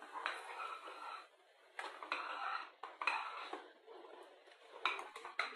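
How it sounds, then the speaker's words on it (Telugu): Utensil scraping and clinking in a pan as Bombay rava halwa with cashews and raisins is stirred, steady repeated strokes up close with no talking. "ఇలా తిప్పుతూ ఉంటే గట్టి కట్టకుండా ఉంటుంది, ప్రసాదం మంచిగా వస్తుంది."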